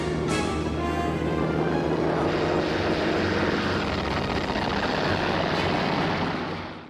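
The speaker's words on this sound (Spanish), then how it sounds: "Del portaaviones que quedaba, el Iryu, despegaron aviones." Propeller aircraft taking off from a Japanese aircraft carrier, the Hiryu, in a World War II account: a loud, steady engine roar that holds for several seconds and fades toward the end.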